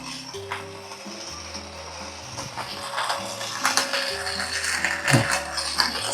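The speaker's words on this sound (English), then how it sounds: "if I have a hand grinder in my hand and I try to grind for espresso" A CF Wisdom hand coffee grinder grinds beans for espresso, giving a close, rhythmic clicking and crunching of gears and burrs that grows slightly louder toward the end, with no speech.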